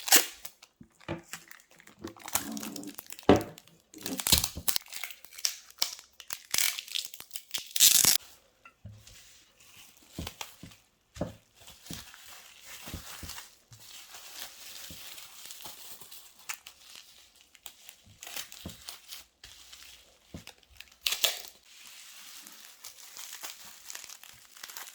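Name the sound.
cello tape being wrapped around a jar lid to seal it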